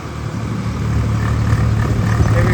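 A tractor engine runs steadily on a village farm, a low rumbling drone with a strong low hum that swells slightly louder after the first second and holds close and even.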